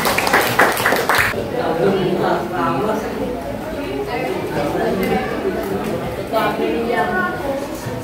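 A classroom of students claps and chatters after a group presentation on plant and animal cells, with a brief burst of clapping at the start that gives way to steady voices and murmuring.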